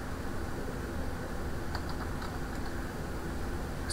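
Steady typing on a computer keyboard, a close run of light key clicks under a constant background hum, with no voices.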